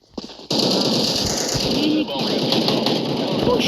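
Rapid automatic gunfire from a first-person shooter game, a dense sustained burst that starts abruptly, runs loud and continuous throughout, and carries voices talking over it.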